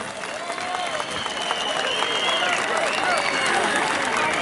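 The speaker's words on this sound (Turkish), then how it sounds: "Silivri Belediye Başkanımız Volkan Yılmaz için bir kocaman ne olur alkış" An outdoor festival crowd applauding for the Silivri mayor at a melon and okra contest, steady loud clapping throughout with voices and shouts mixed in.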